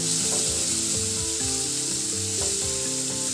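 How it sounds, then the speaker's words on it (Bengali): Two large sliced onions fry in hot oil in a pan, a loud continuous sizzle heard close up with faint stirring knocks and no voices. "দুটো বড় সাইজের পেঁয়াজ চিরি করে কেটে নিয়েছি, পেঁয়াজটা দিয়ে দিলাম। এবার পেঁয়াজ যতক্ষণ না নরম হয় ততক্ষণ ভেজে নেব।"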